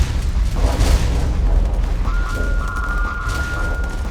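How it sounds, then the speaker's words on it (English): Starsector video game missiles launch and burst in a dense barrage of booms, with a sustained electronic tone entering partway through. "Firing more missiles!"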